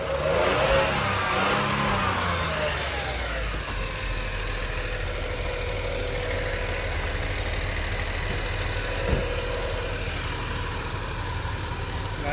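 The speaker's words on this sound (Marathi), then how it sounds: "गाडी चालू आहे ना तरच ती बॅटरी चार्ज होणार" A Tata Nexon Creative Plus S car with a battery drain fault idles with its engine running, a steady, fairly loud hum that holds nearly unchanged throughout, with a slight rise in revs at the start.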